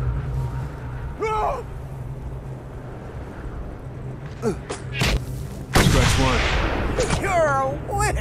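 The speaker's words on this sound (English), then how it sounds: "gunshots up ahead" Gunshots ring out in the Mad Max video game, several sharp cracks and booms near the middle and end that stand out over a constant engine rumble, with voices talking.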